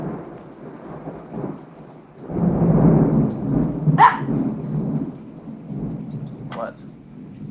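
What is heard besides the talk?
thunder during a rainstorm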